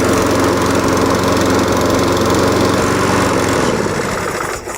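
A Cobra RM46SPC petrol lawn mower runs loud and close with a steady, even engine drone and rattle, then slows and fades slightly at the very end.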